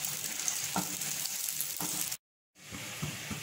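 Cashews fry in ghee for carrot halwa, a steady bright sizzle with a few soft stirring knocks, broken by a short silent gap before the frying hiss returns.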